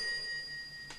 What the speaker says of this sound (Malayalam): ആ ഫോൺ അറ്റൻഡ് ചെയ്യണോ?